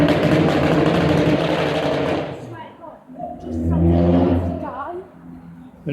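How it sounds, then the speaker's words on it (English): A car rushes past on Woodhorn Road, a main road in Ashington town centre, as a loud close whoosh that fades, followed by lower engine rumble as people talk nearby. "You're gonna hear cars going past us here because this is the main road."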